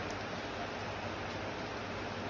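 Rain falls in a steady, even hiss, fairly faint and continuous, with no talking over the short stretch.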